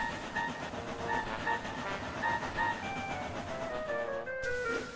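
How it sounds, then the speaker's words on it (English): A breakdown train rumbles steadily throughout with tonal squeals and a brief whistle-like tone near the end, suggesting a train pulling in, in an animated children's show. "Oliver soon arrived with the breakdown train."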